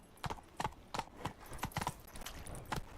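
Roach, a horse, trotting in The Witcher 3: Wild Hunt video game: close, crisp hoofbeats in an uneven two-beat clip-clop rhythm, about a dozen strikes, alone with no talk.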